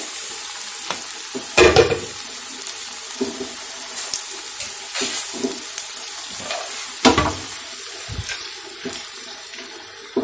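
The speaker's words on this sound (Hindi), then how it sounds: "फ्राई कर रही हूँ।" Pitha frying in oil over high heat, a bed of sizzling marked by sharp bursts and splashes where pieces are moved or added, close and uneven, with no one talking.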